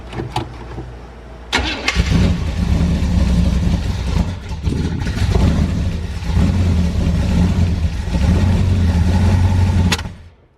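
A 1982 Chevy G20 van's engine cranks and fires, then settles into a steady, loud idle for several seconds before it's shut off, with the timing just set by turning the distributor.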